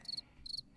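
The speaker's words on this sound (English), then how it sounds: "why are you playing cricket noises?" Crickets chirp in short, high, shrill bursts, two clear pulses and the start of a third, heard close and alone over a quiet background.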